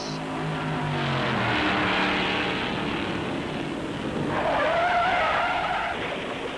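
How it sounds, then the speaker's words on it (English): Roaring stock car engines at the 1957 Darlington Southern 500, with a car skidding out of control in a sustained skid and a rising tire squeal, loud and continuous, with no talking. "A car out of control, and Roberts smashes into him"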